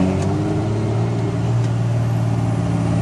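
A 2003–2004 Cummins diesel truck running a performance tune accelerates at full throttle, with a loud, steady engine drone and a deep rumble held evenly throughout. No talk is heard over it.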